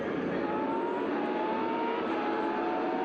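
Vintage race cars, a Formula 1 car among them, roar up the hill at Circuit of the Americas during an SVRA race, a steady distant engine drone with a faint rising whine and no talk.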